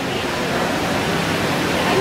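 Indoor waterfall splashing in the Mirage hotel lobby in Las Vegas, a steady broadband rush of falling water that runs unbroken at a moderate level, with no speech over it.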